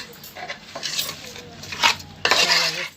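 A spoon stirs and scrapes inside a pot of village-style mutton curry with ginger paste, giving a few clattering metallic strokes and scrapes, loud and close, with no talk.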